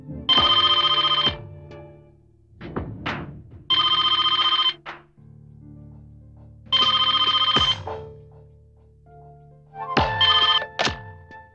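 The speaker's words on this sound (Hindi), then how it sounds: "संपत, फोन लगा।" Old-style telephone bell ringing in a Hindi TV serial scene, four loud repeated rings with pauses between them, accompanied by a few soft knocks and handling sounds.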